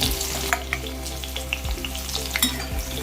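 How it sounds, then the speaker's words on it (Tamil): Chopped ingredients for a Tamil brinjal gravy sauté in hot oil, giving a steady, close sizzle with light scraping and stirring clicks throughout. "இது எல்லாத்தையும் நல்லா வதக்கிக்கோங்க."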